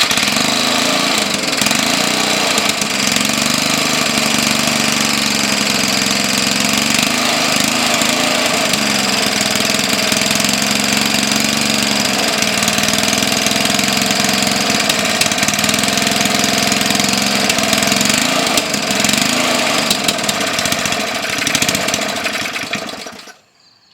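A small Briggs gasoline engine runs steadily and loudly during an oiling system test, with a constant mechanical drone for about 23 seconds before it abruptly cuts off.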